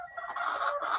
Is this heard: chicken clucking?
yes